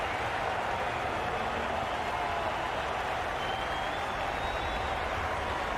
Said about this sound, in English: the crowd have joined the party. It's pretty noisy in the ground